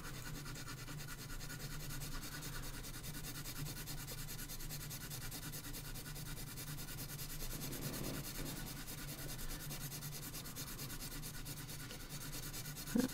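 Pelikan colored pencils scratch and rub across paper in a continuous, close, dry scraping texture that holds steady for the whole stretch.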